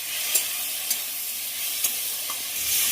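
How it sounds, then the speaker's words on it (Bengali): Spices (salt, turmeric, coriander and cumin powder) frying with potato and tomato for an okra and shrimp curry give a steady close hiss and sizzle, with a few sharp scrapes and clicks of stirring. "ভালো করে নেড়ে দেবো।"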